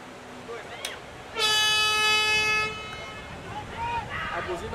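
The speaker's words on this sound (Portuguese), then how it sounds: "A buzina já tocou" An air horn sounds one loud, sustained blast of about a second and a half to end a men's rugby sevens match in São Roque, with a commentator's voice and crowd noise around it.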